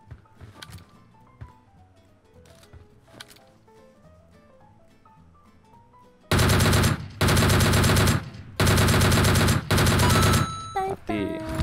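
Loud bursts of automatic gunfire in the PUBG Mobile battle royale game, four long sustained volleys with short gaps and a few scattered shots after, following a quieter stretch of game background sound.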